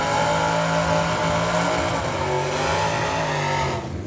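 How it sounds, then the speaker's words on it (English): Supercharged Cobra Jet drag race cars at a drag strip roar loudly and steadily throughout, a dense sustained engine blast that eases slightly near the end, with no talking. "you can always tell the blower cars, can't you? Holy smokes, are they loud."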